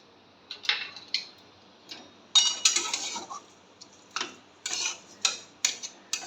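A metal spatula scrapes and clinks against the pan while mixing a Bengali banana-stem dish with greens, in short separate strokes of bright metallic scraping and tapping at an irregular pace, close up and fairly quiet.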